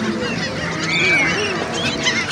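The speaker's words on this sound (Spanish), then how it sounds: "Estas son las gaviotas" Seagulls flock at Coney Island in Brooklyn, squawking loudly and continuously close by, with harsh overlapping calls throughout.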